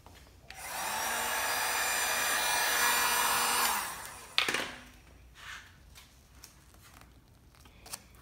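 A heat gun blows hot air onto a part during a radiator core support swap on a Chrysler 300 SRT8 6.4, a steady rushing roar for about three seconds that then cuts off, followed by faint handling clatter.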